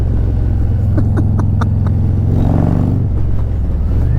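A Harley motorcycle with a 131ci Stage 4 crate engine rumbles loud and close while riding on the road, a deep steady engine throb with wind roar and short bursts of clicking.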